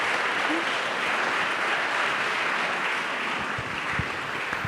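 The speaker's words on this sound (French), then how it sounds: "On peut l'applaudir." An indoor audience at an evening event applauds in a dense, sustained wash of clapping that holds steady and thins slightly toward the end.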